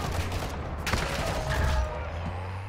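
Gunfire in Call of Duty: Modern Warfare II DMZ, a dense burst of rapid shots crackling over a steady low rumble for a couple of seconds, loud and close.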